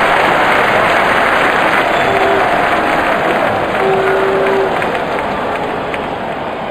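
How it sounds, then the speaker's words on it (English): Stadium crowd roaring in a real cricket Android game, a dense, loud, continuous wash of cheering and noise that fills the whole stretch, with no clear speech on top. "Crowd is going crazy."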